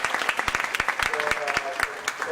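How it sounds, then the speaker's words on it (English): Audience applause at the close of a lecture on optimal control, brisk overlapping claps in a steady patter for a couple of seconds, fairly near. "Let's give a big round of applause"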